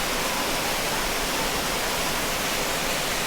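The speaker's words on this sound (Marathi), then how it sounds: "हे धबधबा बघू शकता तुम्ही." A waterfall beside a temple, heard as a dense, unbroken roar of falling water, loud and steady throughout with no voices.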